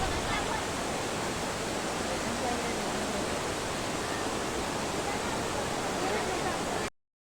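Steady, loud broadband roar of a waterfall beneath a glass bridge in Maharashtra's Konkan region, continuous and close, with no break until it cuts off near the end.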